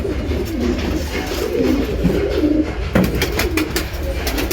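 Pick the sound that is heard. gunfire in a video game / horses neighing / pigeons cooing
pigeons cooing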